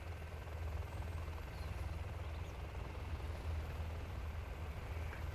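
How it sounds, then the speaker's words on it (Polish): Helicopters fly in Command & Conquer Generals Zero Hour, producing a steady low rotor drone with constant rumbling texture throughout, moderately loud with no voices. "tych helikopterów tutaj trochę jest"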